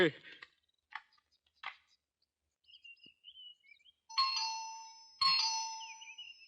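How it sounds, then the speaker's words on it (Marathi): A few faint clicks, then two loud electronic doorbell chimes ring out in quick succession, each tone lingering and fading. "किती वेळ बेल वाजवायची"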